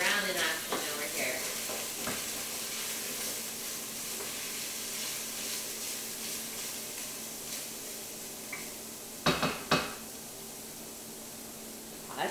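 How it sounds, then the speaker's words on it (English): Meat browning in a pan for lasagne bolognese gives a steady, close frying sizzle with soft stirring, then a few sharper clatters of the utensil near the end. "Hey, you hear that sizzle? We're finally getting some brown in action over here."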